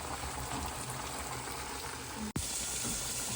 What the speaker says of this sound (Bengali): এখানে যে বেগুনের চপ ভেজে নিতেছি।